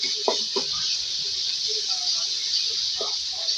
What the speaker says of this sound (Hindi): यहाँ पे ऑयल है, इसमें लहसुन का पेस्ट डालूंगी मैं